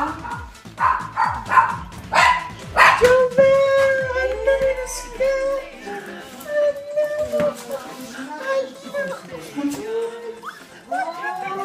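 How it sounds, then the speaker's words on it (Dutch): A small dog gives a run of quick yaps and whimpers, close and fairly loud, while people chatter excitedly around it on a family holiday in Spain. "Dat is een hondje."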